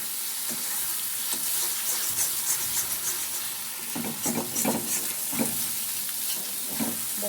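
Dry dal frying in a pan while coriander leaves are stirred in, a steady sizzle broken by repeated scraping strokes of the spoon, close and unaccompanied by speech.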